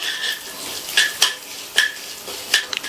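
Urad dal and mustard seeds fry in hot oil for a snack, giving a steady soft sizzle broken by a few sharp clinks of a spoon stirring against the pan; close and alone, with no talk.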